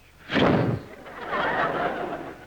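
A comedian's brief vocal swish imitating a dash, a breathy mouth sound lasting about half a second, followed by a soft ripple of audience laughter.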